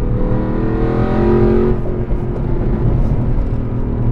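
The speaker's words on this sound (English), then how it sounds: "I want to give you guys a nice rev out. I want to get all the way to the red line" A straight-piped Renntech-tuned Mercedes-AMG CLK63 Black Series V8 revs hard toward redline, a loud, close, continuous raspy roar that climbs in pitch and then settles into a rumbling high idle.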